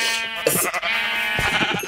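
Sheep bleat loudly and close by in a zombie apocalypse video game, with several drawn-out wavering calls that overlap one another and no talk.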